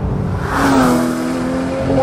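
A Porsche 911 GT3 with a 3.8-litre direct-injection engine revs and pulls hard, its rising drone loud and close with steady harmonic tone throughout.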